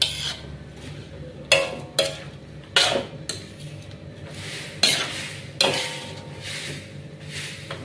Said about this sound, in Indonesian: Kita aduk kembali ya guys, nah, biar garam dan bumbunya merata ya.